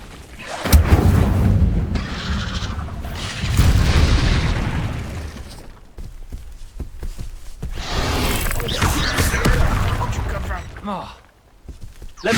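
Incendio fire spells cast in Hogwarts Legacy, loud whooshing fiery bursts and booming impacts repeating over the game's ambience, with a voice speaking over parts of it.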